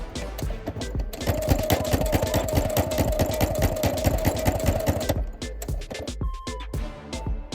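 Sewing machine running steadily for about four seconds while edge stitching a jacket pocket on an African print jacket, a fast even mechanical chatter that stops, followed by a few light handling clicks.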